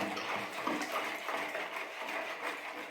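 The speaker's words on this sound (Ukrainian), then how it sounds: "Тепер будемо помаленьку додати водичку." Water poured slowly into flour for homemade bread dough, a soft continuous splashing and trickling that holds steady for a few seconds, with no voices.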